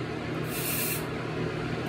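An aerosol can of men's body spray is sprayed toward a running fan, giving one steady hiss lasting about half a second over the fan's constant hum.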